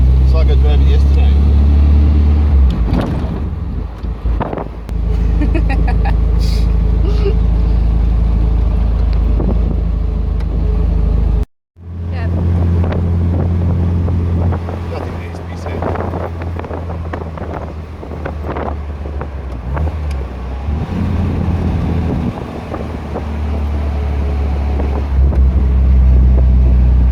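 An MGB car driving, with the engine running under heavy wind buffeting and road noise. There is a brief dropout midway, and people talk over it.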